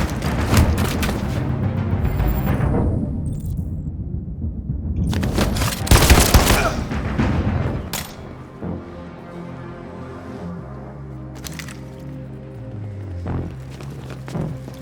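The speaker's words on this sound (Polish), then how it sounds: "Niezły strzał, Konor." Loud bursts of rapid gunfire crackle in a Detroit: Become Human game scene, rattling in quick volleys before fading into quieter rumbling and scattered effects.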